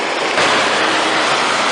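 The Umatilla River current rushing past an 8-foot AquaDam near Echo, Oregon, a loud, steady broadband wash of flowing water with no pause.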